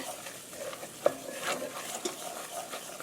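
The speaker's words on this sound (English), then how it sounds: "we're going to add 2 tablespoons of flour and mix it around." Flour being stirred into melted butter in a pan for a potatoes au gratin sauce, giving a soft sizzle with quick scraping strokes and one sharp clink, quiet and close with no talking.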